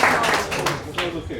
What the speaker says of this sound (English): How many of you, by a round of applause,